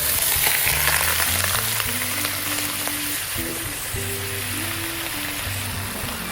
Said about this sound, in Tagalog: ito, iba-browning ko lang yung pork.